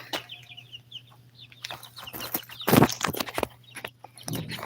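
Rhode Island Red chickens cluck and chirp close by, with young birds peeping, footsteps shuffling and a loud rustling burst in the middle, alone without talk.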